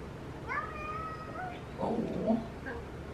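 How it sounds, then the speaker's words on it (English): A visiting cat meows several times at an old house at night, the calls faint and somewhat distant against a quiet background, followed by a brief rustle. "We have a cat visitor up here."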